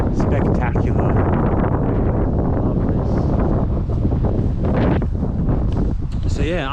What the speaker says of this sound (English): It's a nice windy day today.